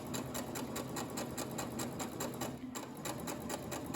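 A sewing machine stitches sheer fabric with blue thread, running at a fast, even rhythm of rapid needle clicks with a brief pause near the end before resuming, close and steady.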